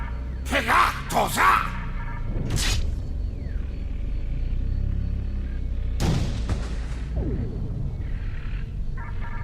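Starship weapons in Star Trek Online fire in a few separate bursts, heavy booms with whooshing energy sweeps and low rumble between them, while voices speak in the background.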